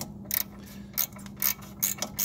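A bolt is turned counterclockwise on a lowered 2019 ZR1 Corvette, producing about five short bursts of close ratchet clicking separated by brief pauses.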